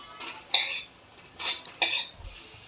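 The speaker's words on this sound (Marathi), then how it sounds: "काप मी परतून घेते आहे." Pineapple slices sautéed in ghee in a pan, heard as a few soft, scattered clinks and scrapes of a utensil against the pan, quiet and close, with no speech.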